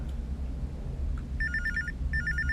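A telephone rings twice in a horror video game: two bursts of a bright electronic trill, each about half a second long, come over a low rumbling ambient drone.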